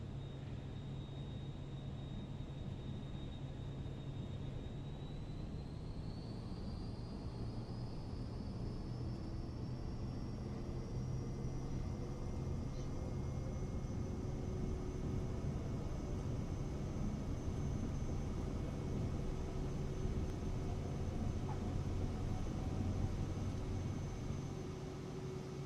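Airplane engine in Microsoft Flight Simulator 2024 holding a steady, continuous drone through the takeoff roll, with a high whine that rises in pitch early on and then stays level, loud and alone throughout.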